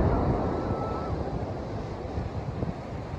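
Strong wind buffeting the microphone at the seaside along the beachfront at Bertioga, a steady broadband roar with surf mixed in, continuous and loud throughout.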